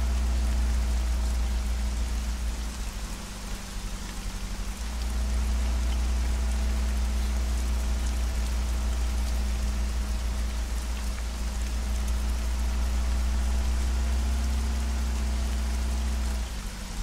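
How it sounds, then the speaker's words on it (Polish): Steady rain falls in the military shooter ARMA III, a continuous broadband hiss with low rumble that holds nearly unchanged throughout, with a brief dip around the fourth second and no talk. "No nie, no znów zaczął padać."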